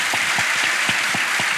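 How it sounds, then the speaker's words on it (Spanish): Lively audience applause during a talk show conversation, a steady crowd of clapping hands with a few sharper individual claps standing out, continuous and close for the whole moment. "No sé por qué aplaudimos esto"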